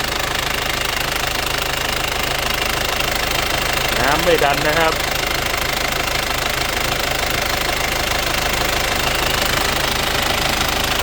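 An Isuzu Dragon cab pickup truck engine idles with a steady, close knocking rumble, while someone speaks briefly over it.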